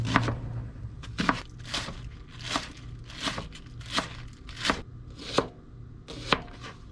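A knife chops celery, leaves and all, on a cutting board in about ten crisp, evenly spaced strokes, each a sharp close thunk with a brief crunch, alone without talk.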